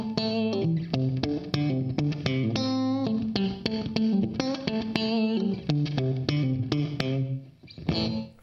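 Clean-toned electric guitar picked through stereo reverb and a compressor, playing a steady run of distinct plucked notes and chords that ring clearly on their own, with a brief pause near the end.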